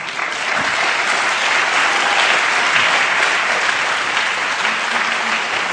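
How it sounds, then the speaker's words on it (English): An audience at a Noam Chomsky talk on Israel claps in sustained, dense, loud applause that fills the room without pause. "one more round of applause for Noam Chomsky"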